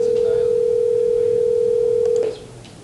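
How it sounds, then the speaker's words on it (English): A telephone ringback tone, two pure pitches sounding together, holds steady and loud for over two seconds, then cuts off abruptly, leaving faint background hiss. "When you call someone and it's ringing."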